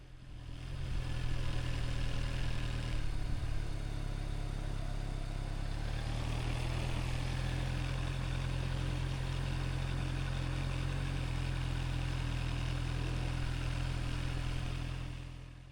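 A motorcycle engine runs steadily with no throttle while the bike pulls away on clutch control alone, a constant low mechanical drone that stays loud and close throughout, with no talking.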